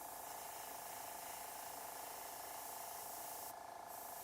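Spray primer hisses steadily from a can onto a miniature figure of The Blob for Marvel Crisis Protocol, a continuous close, fairly faint spray with a brief change near the end, and no talk.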